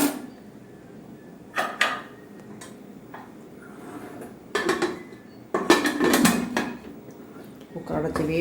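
A pressure cooker lid being set and closed over a cooked dish, heard as several sharp metallic clanks and knocks in short bursts against a quiet kitchen background.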